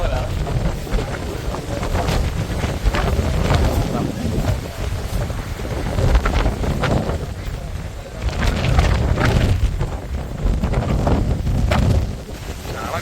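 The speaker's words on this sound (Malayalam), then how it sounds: "ഒരു രക്ഷയില്ലാത്ത കാറ്റാണ് കേട്ടോ" Strong sea wind at Kanyakumari buffets the microphone in a steady loud roar, with gusts swelling around the middle and later seconds, and faint voices mixed in.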